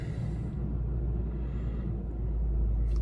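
A 2007 Toyota Tacoma base V6 idles steadily, a low, even engine rumble heard from close by with a faint hum, no talk over it.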